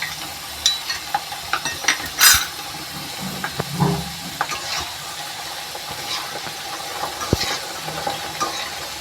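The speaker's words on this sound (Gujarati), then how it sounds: "આવી રીતે કન્ટિન્યુ આપણે હલાવતા રહીશું, એટલે રતારું છે ને બરાબર તરાઈ જાય બધી બાજુથી" Purple yam pieces fry in hot oil in a pan, a steady soft sizzle and hiss under scattered clinks and scrapes as they are stirred, with occasional louder spatters and no talking.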